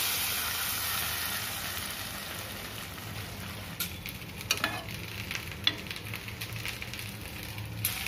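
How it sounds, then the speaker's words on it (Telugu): Hot tempering of garlic cloves, curry leaves and onions meets a pan of Malabar spinach dal, starting as a soft hiss and breaking into sharp sizzling crackles partway through. Nearby stirring can be heard and no one speaks. "తాలింపుని వేసేసుకుందాం."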